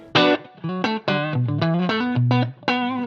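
Electric guitar played through a Quilter amp with a touch of added reverb, a short phrase of distinct picked notes ringing one after another, close and loud with a slight ambient tail.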